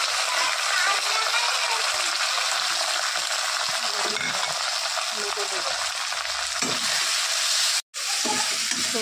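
Onions with bay leaf and panch phoron spices crackle and hiss continuously in hot oil in a home kitchen, a dense steady sizzle with a brief cut near the end.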